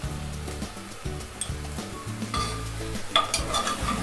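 Dry ground spices such as turmeric, coriander and garam masala are stirred and frying in a pan for a spicy Sindhi-style red chicken curry, giving a steady close scraping sizzle with no one talking.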